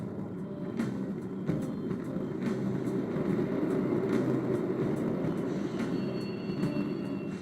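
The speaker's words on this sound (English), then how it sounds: "The trains are totally running!" A subway train in the Persona 5 Royal video game rumbles steadily through a tunnel, with a dense low roar and rhythmic clacks of wheels over rail joints, continuous and fairly loud with no voices.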